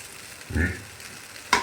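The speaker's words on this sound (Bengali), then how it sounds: "চালটাকে আরও একবার বাদামের সাথে আর পেঁয়াজ ভাজা তেলের সাথে একবার নেড়ে নিলাম" Rice is stirred in a pan with nuts and fried-onion oil for a pulao, giving a brief soft scrape, a quiet pause and a second short, sharper clink.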